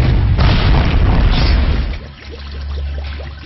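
A loud explosion set off by a static electricity spark in a flammable atmosphere aboard an oil tanker, a heavy booming blast that rumbles and fades into a lower roar.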